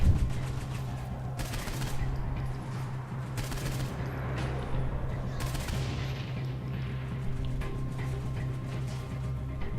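Gunfire in the video game Saints Row IV: several bursts of rapid shots and volleys crackle over a steady, rumbling game soundtrack. The bursts are moderately loud and fairly distant, with no voices.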